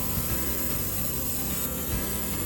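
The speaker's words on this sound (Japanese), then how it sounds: "ブランク、リールシート、K ナット、エンドキャップのすべてに塗装します。" An air spray gun at low pressure sprays two-part paint onto a fishing rod blank, reel seat, nut and end cap, giving a continuous, close, broadband hiss without pause.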